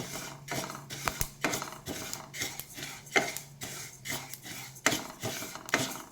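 Sesame seeds dry-roasted in a pan for sesame laddus, with a spoon scraping and clinking against the metal in quick, uneven strokes, close and fairly loud.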